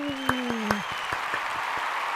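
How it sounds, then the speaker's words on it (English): An applause sound effect plays as a crowd claps, with sharp separate claps standing out over a continuous patter, while a voice speaks briefly at the start. "Add in the applause sound effect."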